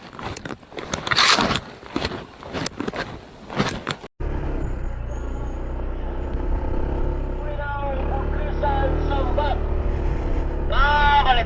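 A motorboat engine drones steadily on the Hio River after a burst of clattering handling noise, its hum continuous and fairly close with faint voices in the background.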